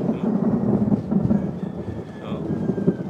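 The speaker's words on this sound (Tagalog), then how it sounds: "Ang lakas ng kulog." Loud thunder rolls and rumbles continuously through a rainstorm, with rain falling steadily throughout and no talking.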